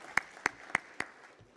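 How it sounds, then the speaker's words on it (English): A conference audience claps in a few slow, evenly spaced, fairly faint beats, four sharp claps in quick succession with nothing else around them. "they deserve a big round of applause from all of us."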